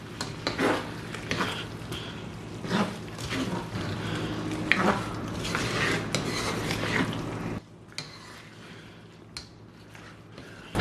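Fried fish being stirred into a thick sauce in a pan, with soft scraping and squelching strokes of a spoon, then a quieter stretch with scattered clinks near the end.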